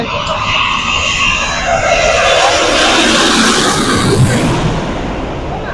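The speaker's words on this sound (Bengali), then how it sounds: "এখন কিন্তু একটা বড় বিমান আসছে।" A loud, broad jet roar sweeps past as a large airplane comes in, its pitch shifting as it draws near and passes, with wind noise throughout.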